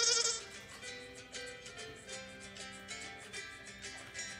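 Sheep and goat bleating sound effects play during a children's read-aloud of a picture book about a little blue truck: a quick run of loud, wavering bleats, close and clear, with no talking over them.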